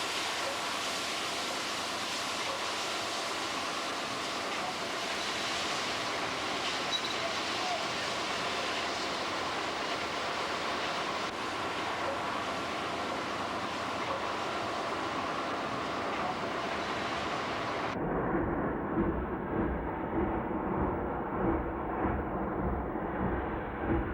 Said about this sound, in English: 2522 pulls train number 9, the Dakotan, through Williston